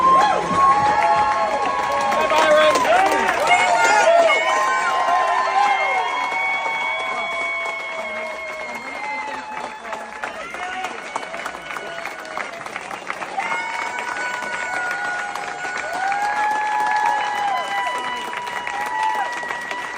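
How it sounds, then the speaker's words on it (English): A crowd at a political fundraiser reception for a Florida governor hopeful cheers, claps and shouts, loud and continuous throughout, with individual voices rising above the applause. "Look at those racist white people cheering"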